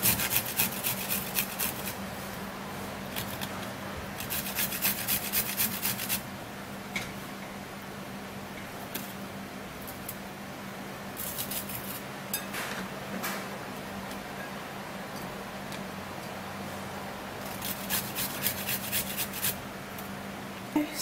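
Peeled garlic being grated, giving bursts of dry scraping and rasping strokes in clusters with quieter gaps, close and fairly soft, with no talking.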